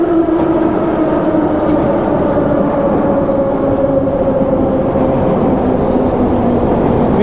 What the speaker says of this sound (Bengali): চলো, মেট্রো আসছে, উঠে পড়ি।